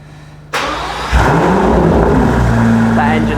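An Aston Martin V12 Speedster's 5.2-litre V12 cranks and fires, then flares into a loud rev before settling into a deep, steady idle up close.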